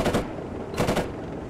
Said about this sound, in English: Oh, finally a couple shots.